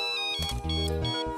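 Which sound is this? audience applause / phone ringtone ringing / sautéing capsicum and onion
phone ringtone ringing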